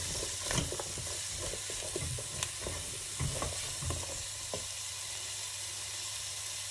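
Butter sizzles and spatters in a hot pot, a constant frying hiss punctuated by irregular pops and a few clinks, close by.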